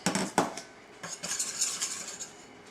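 A spoon stirs cocoa into melted butter in a bowl, giving a few sharp clinks against the bowl at the start, then quieter, uneven scraping and tapping.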